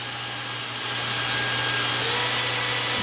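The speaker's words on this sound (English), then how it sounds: "we're going to take our drill bit, we're going to hold this in place with our hand like this, and we're going to start drilling our holes" A drill bores holes into a concrete floor while installing a toilet flange without damaging the tile, giving a steady, loud grinding whir that holds constant throughout with no talk.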